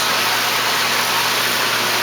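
A water pump hums steadily in a home-built aquaculture system, a loud, even motor drone mixed with rushing water and no speech.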